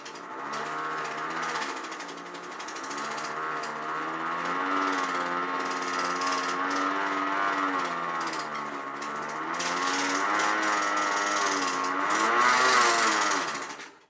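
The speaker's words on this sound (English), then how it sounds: "There's something foreboding about a good air raid siren" A homemade 3D-printed dual-tone air raid siren winds up into a loud, continuous wailing howl that rises and falls slightly in pitch for over ten seconds, with a buzzing, rubbing mechanical edge and no voices.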